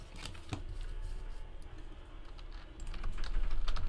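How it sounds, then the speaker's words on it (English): Quick, close clicks of typing on a computer keyboard, with a steady patter of keystrokes that grows denser and louder toward the end over a low background hum. "Let me type in all of the hits."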